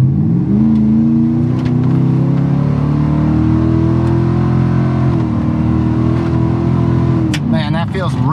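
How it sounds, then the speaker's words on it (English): A Ford 7.3L Super Duty pickup in sixth gear at about 35 mph pulls under half throttle, its engine drone steady and rising slightly, with a voice talking over it throughout. "we'll just do some nice half throttle accelerations. It's in 6th gear, 35 miles an hour."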